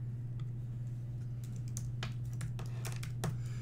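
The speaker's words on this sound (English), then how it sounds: "I'm gonna type it out here." Keys on a computer keyboard tapped in light, scattered clicks that cluster in the second half, sitting beneath a steady low electrical hum with no talking.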